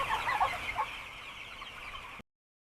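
A flock of chickens in a poultry house clucks and chatters steadily, the busy clucking loudest early on and fading a little before cutting off abruptly.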